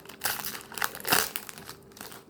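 Foil Union Arena trading card booster packs being torn open and crinkled, a few sharp close crackling bursts over about two seconds, no talking.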